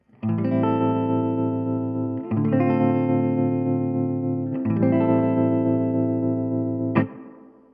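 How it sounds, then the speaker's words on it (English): Sustained guitar chords ring out three times with a gently pulsing classic opto tremolo wobble, the last one ending in a sharp strum that fades out. "I can also change the type of tremolo from a classic opto sound"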